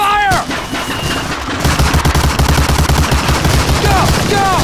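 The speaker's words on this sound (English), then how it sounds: "Covering fire!" Sustained gunfire in the World War II shooter Medal of Honor: Allied Assault, with dense rapid machine-gun bursts and loud battle noise filling the scene throughout.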